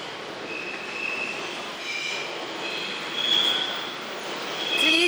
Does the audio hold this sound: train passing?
yes